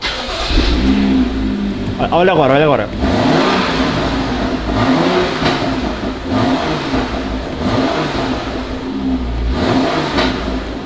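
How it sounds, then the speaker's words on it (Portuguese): A V6 car engine revs up hard several times in short bursts, loud and close, while someone talks over it. "ligar pra vocês o meu carro pra vocês ouvirem o som de um motorzão V6 bolado"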